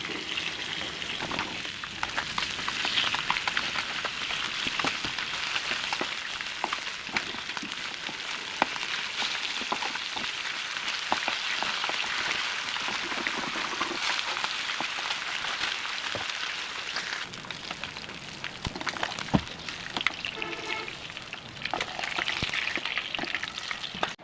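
Shing fish frying in hot oil in a pan, a steady loud crackling sizzle that carries on throughout with occasional stirring clicks, no voices.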